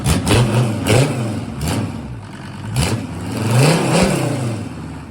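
A SsangYong OM662 2.9 engine runs close by and is revved repeatedly, its pitch rising and falling in several surges over a loud, rough running note.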